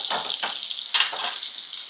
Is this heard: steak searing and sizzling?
yes